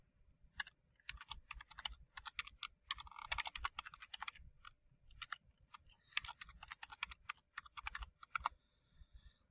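Fast typing on a computer keyboard while logging in to an account, a near, steady patter of clicks in bursts with brief pauses, no voices.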